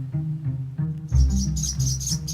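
Mother bird calling near a nest, a series of short rhythmic chirps close by with a low rumble of handling noise and no talk.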